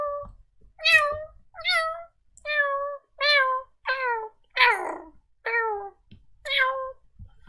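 A voice imitates a cat with a series of eight rhythmic, high-pitched meows, evenly spaced and close, one slightly more drawn out and wavering, over a quiet background.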